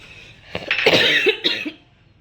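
A short burst of several harsh coughs in quick succession, close and fairly loud, then silence.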